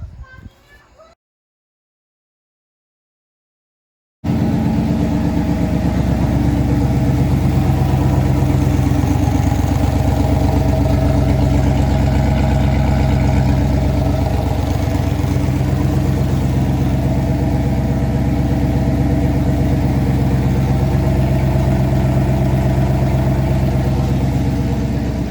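Ford 302 V8 running steadily after installation with a 6R80 transmission, a loud, continuous low engine drone that starts abruptly after a brief silence and holds an even idle throughout.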